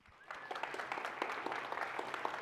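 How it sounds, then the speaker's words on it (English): A conference audience in a room at DDD Perth breaks into applause. The clapping is moderately quiet, builds quickly after a brief lull and then continues as steady, scattered clapping. "Let's give a round of applause."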